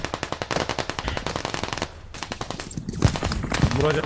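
Rapid machine gun bursts in the military shooter Squad form a fast, loud rhythmic rattle, then a brief pause and scattered shots and impacts, with a voice faintly under the gunfire.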